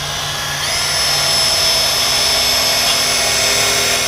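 A power drill whirs up after a brief moment and holds a steady, loud, high-pitched spin throughout.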